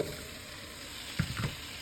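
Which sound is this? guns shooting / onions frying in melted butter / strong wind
onions frying in melted butter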